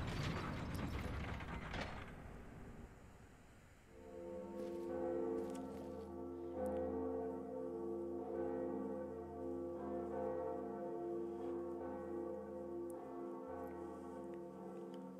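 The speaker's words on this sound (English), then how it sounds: "Bell." Bell tolling in Dark Souls Remastered, preceded by a rough mechanical rattle; the bell then rings out in a sustained, resonant hum with several soft repeated strikes, loud and alone without talk.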